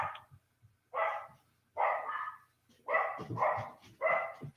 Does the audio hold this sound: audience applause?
no